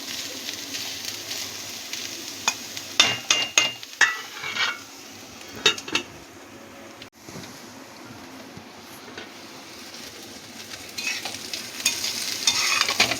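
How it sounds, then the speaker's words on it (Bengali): Banana stem fries in a pan as a soft continuous sizzle, broken by sharp clinks and scrapes of a spatula stirring against the metal, with the hiss growing a little louder near the end. "থোরটা ভালো ভাজা ভাজা হচ্ছে।"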